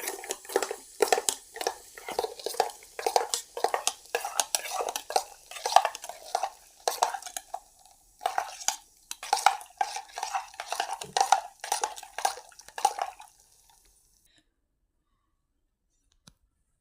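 A spoon stirs a cold drink, rapid close metallic clinks and taps against the glass in fast bursts for about thirteen seconds, then silence.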